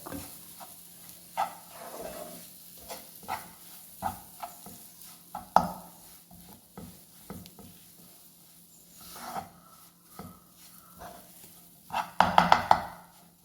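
A spoon scrapes and knocks against a pan as dry semolina is stirred, soft irregular strokes with a few sharper metallic taps near the end.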